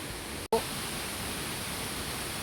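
Waterfall on the first floor of a tiered falls, a steady broadband rush of falling water that stays constant and fairly loud after a brief dropout near the start.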